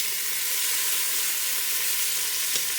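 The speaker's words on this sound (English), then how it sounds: "as your oxtails brown on each side, turn them." Oxtails browning in hot oil in a pot give a steady, close sizzle and crackle that holds evenly throughout, with no talking.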